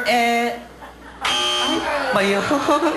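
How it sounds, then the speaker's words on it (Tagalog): A brief, harsh electronic buzzer blares at the start, then cuts off as voices and music carry on. "Naunahan ako ng buzzer."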